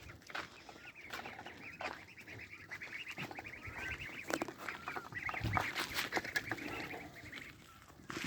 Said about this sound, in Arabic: الفراخ طلعت تاكل هي اخرى